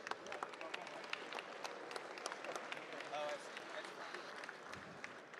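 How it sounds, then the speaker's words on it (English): A keynote audience at a defense conference applauds the sponsors, a faint, distant spatter of clapping heard softly throughout. "please join me in a round of applause for Lockheed Martin and for all of the West sponsors"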